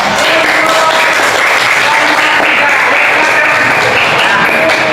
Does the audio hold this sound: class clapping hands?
yes